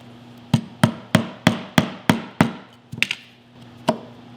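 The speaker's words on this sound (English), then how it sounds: "Now all I gotta do is clean this edge up with a little 1/2-inch chisel." A half-inch chisel is struck repeatedly while cleaning up a wood edge, giving about eight sharp, evenly spaced mallet-like knocks, followed by a few lighter taps and one last knock, close and alone.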